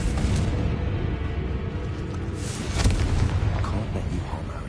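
Confringo blast spell going off in a Harry Potter video game, a dense rumbling boom with a sharper burst near the three-second mark over a steady roar of game ambience.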